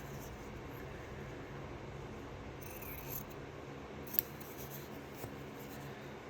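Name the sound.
scissors cutting out a quilt paper piece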